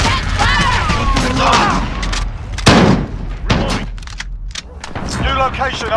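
Rapid bursts of automatic gunfire and heavy booms crack through a Call of Duty: Modern Warfare firefight, one loud close blast standing out midway, with voices shouting over the shooting at the start and end.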